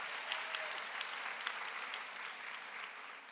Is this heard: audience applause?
yes